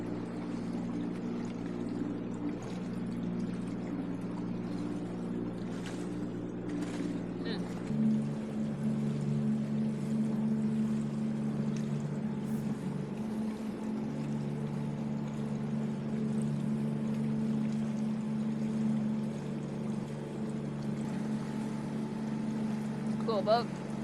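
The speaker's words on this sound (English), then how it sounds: "Cool boat. Looks like a homemade one." A homemade motorboat chugs past on the water, its engine a steady low drone that holds throughout and shifts pitch slightly as it goes by.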